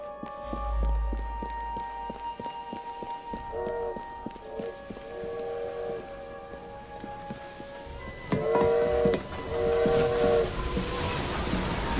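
A steam locomotive in Assassin's Creed Syndicate chugs steadily, with ringing metallic tones and several sharp whistle blasts near the end, loud and close.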